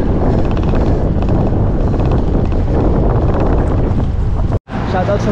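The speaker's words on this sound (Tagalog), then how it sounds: "Yan, medyo mahina na hangin." Strong wind buffets the microphone at the Mt. Banahaw view deck, a loud, continuous roaring rush that cuts out for a split second near the end before resuming.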